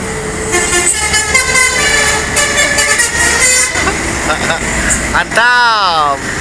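A bus from West Sumatra sounds its basuri musical horn, a loud, tuneful run of warbling, rising and falling notes over traffic noise with a closing sweeping flourish, and voices can be heard around it.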